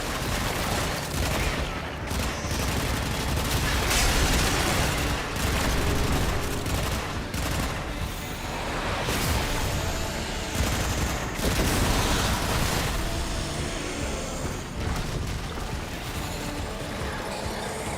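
Sustained gunfire in the Warframe video game, dense overlapping shots and bursts with machine-gun-like rattles and booms, loud and continuous for the whole stretch with no talking.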